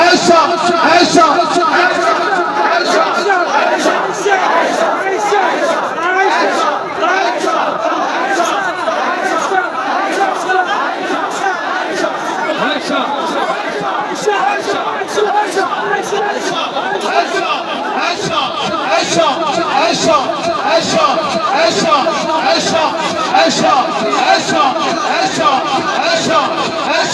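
Large religious gathering with a crowd loudly chanting slogans in rhythmic unison, dense massed voices sustained and close throughout.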